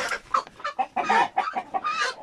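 Sick chickens cluck and murmur in short, uneven bursts, fairly close but quiet, with no voices present.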